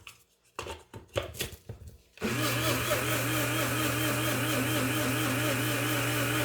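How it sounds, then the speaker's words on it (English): A small, low-powered grinder mixes homemade toothpaste powder of clumpy baking soda and essential oil, switching on after about two seconds of scattered sounds and then running with a loud, steady whir to the end. "This isn't a very powerful machine, but it is just perfect for something small like this."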